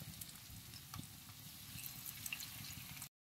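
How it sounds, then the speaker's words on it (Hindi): Chicken pieces shallow frying in oil in a frying pan give a steady, close crackling sizzle with small pops throughout, ending abruptly in silence. "डीप फ्राई हम इसको नहीं कर रहे हैं, हम इसको शैलो फ्राई कर रहे हैं"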